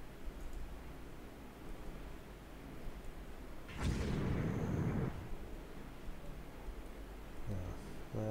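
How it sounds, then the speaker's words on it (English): Torpedo hits on warships in the naval strategy game Rule the Waves 2, a sudden broad rumbling blast lasting about a second over steady background noise, followed by fainter impacts. "And more torpedo hits."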